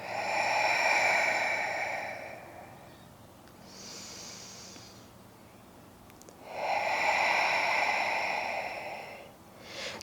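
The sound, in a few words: deep breathing in through the nose during prenatal yoga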